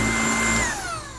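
A MOOSOO U19 cordless upright vacuum cleaner runs steadily with a loud motor whine, its pitch sliding slightly lower toward the end, and no voices are heard.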